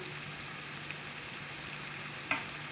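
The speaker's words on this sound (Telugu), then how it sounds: "ఇప్పుడు ఒకసారి తిప్పుదాం" A mushroom masala curry with turmeric bubbles in a pan on low heat, a faint, even frying hiss with one small clink of a spoon near the end and no voices.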